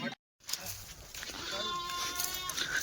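Kathiawadi goats bleat at close range on a farm as customers lead them out, several wavering cries over background chatter.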